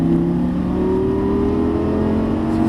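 A Lamborghini Gallardo Superleggera LP570 accelerates on a track, its engine a loud, close, steadily rising high-revving drone with strong harmonic tones throughout.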